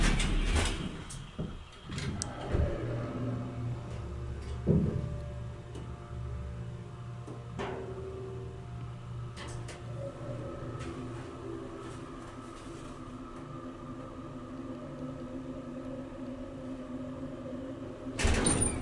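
A Midland hydraulic elevator at a building in Elmsford, New York runs with a steady low motor hum and whine, opening and closing with clunks and door rumbles, no talk.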